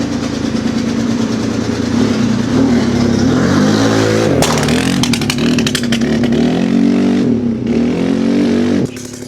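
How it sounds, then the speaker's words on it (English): A Polaris RZR side-by-side that sat unused for five years runs loud and close, its engine popping and rumbling unevenly, with harsh grinding bursts as gears are forced, continuous throughout. "you can certainly hear this bike popping and going. And that grinding noise is me trying to put it in gear."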